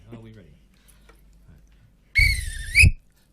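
A referee-style whistle is blown in one loud, sustained shrill blast of about three-quarters of a second, wavering slightly before cutting off, following a faint voice and quiet pause.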